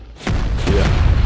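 Homing missiles explode in ARK during a boss fight, a loud continuous booming roar of overlapping blasts that swells and stays heavy to the end.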